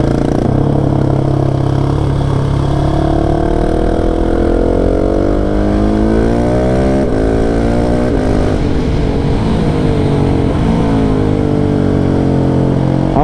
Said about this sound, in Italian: E intanto vediamo questo KTM 690 scatenarsi per questa strada di montagna.